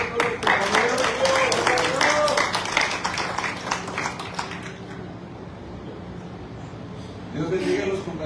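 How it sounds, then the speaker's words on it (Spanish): A church congregation claps for its members, a dense burst of applause that thins out midway and then swells again briefly near the end, with voices mixed in. "Hay que dar un fuerte aplauso a todos los compañeros."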